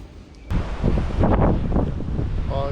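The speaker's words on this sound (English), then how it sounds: "Probably got 100 km/h gust here" Strong southeasterly wind gusts near Picton in the Marlborough Sounds, roaring and buffeting loudly against the microphone and swelling after a quieter start, with no one talking.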